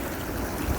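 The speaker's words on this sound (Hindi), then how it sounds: "आप यहाँ पे सिर्फ पानी का शोर एंजॉय करें।" A mountain stream near Lulusar Lake at about 12,000 feet, its water rushing in a steady, broad, close wash with no pauses.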